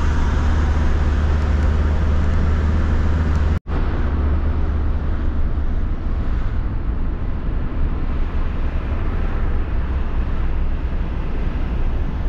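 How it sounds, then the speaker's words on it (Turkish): City road traffic heard from inside a motorhome on a tour of Turkey: a steady, loud low rumble of engines and tires that runs the whole time, with one brief sharp dropout. "İkinci şerit, üçüncü, beşinci şerit çok enteresan bir trafiğe sahip."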